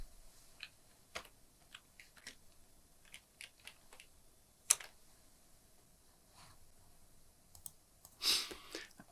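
Keys clack on a computer keyboard while a command is entered into a Bloomberg terminal, a sparse run of separate taps and clicks in a quiet room, ending in a brief louder rustle.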